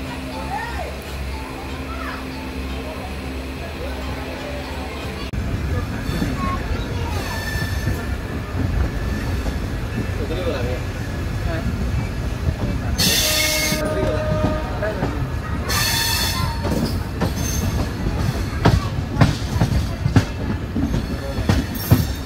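The Samaleswari Express rolls through hilly country with a steady rumble and clatter of wheels on rails, and a horn sounds in a few long bursts partway through. A window-seat passenger's view keeps the running noise close and continuous.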